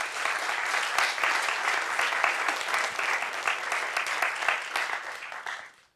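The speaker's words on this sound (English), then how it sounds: "big applause for AltConf and the volunteers" A conference audience at AltConf applauds steadily with dense, sustained clapping that fades out at the end.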